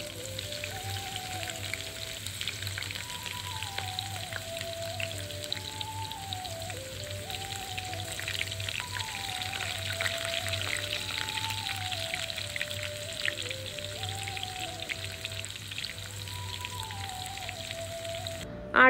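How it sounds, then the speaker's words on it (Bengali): Chopped onions lightly frying in a pan with spices while cooking churi shutki (dried ribbonfish) bhuna, giving a steady close sizzle beneath continuous melodic background music. "পেঁয়াজটাকে আমি হালকা করে একটু ভেজে নিব।"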